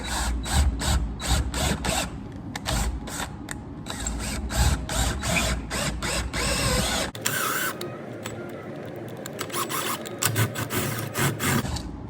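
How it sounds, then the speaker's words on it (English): A power drill grinds into a lower control arm bushing on a Duramax in quick, rattling bursts, stopping and starting, with a harsher, denser stretch toward the end. "You're going to drill into it."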